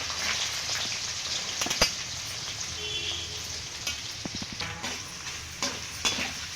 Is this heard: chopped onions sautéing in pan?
yes